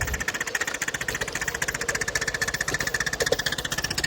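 A descaled model steam locomotive, eight years old and running on a track, chuffs with a fast, steady rapid beat and a hissing, rattling mechanical texture, close and continuous with no voices.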